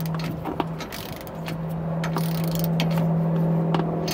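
Ratchet wrench snugging down steering stabilizer bolts during a Roadmaster steering stabilizer install on a 2004 Ford, with rapid metallic ratcheting clicks under a steady hum, close and moderately loud.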